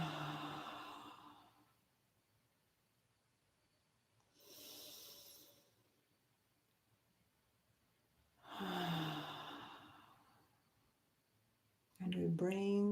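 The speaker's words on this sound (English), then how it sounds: "together, let's inhale and exhale 3 times" Three slow, audible breath cycles during a guided meditation, each a soft drawn inhale or exhale rising and fading with long quiet pauses between, close and gentle, followed by a voice starting to speak.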